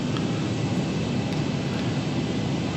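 Airliner jet engines at takeoff power on the runway at Jacksonville, a steady broadband roar heard from inside the cabin or cockpit, even and continuous with no speech.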